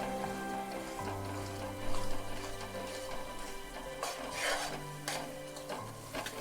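A spoon stirs milk into flour roasting in a pan for adadiya pak, scraping steadily with a soft sizzle under a low background hum.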